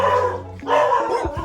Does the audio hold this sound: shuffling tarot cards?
no